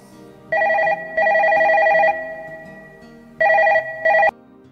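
A telephone bell rings loudly in an Assamese movie scene, sounding in two pairs of sharp electronic bursts with a quiet gap between them, and no voices are heard.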